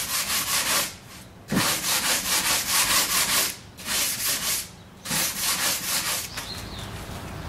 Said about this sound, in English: I'm going to take 100 grit sandpaper and just rough it up and then wipe it down,